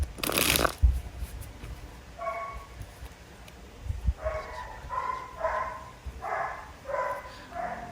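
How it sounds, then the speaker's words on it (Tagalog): A dog barks several times in short bursts after a sharp clatter, with pauses between barks, fairly close by. "sorry sa tahol ng aso"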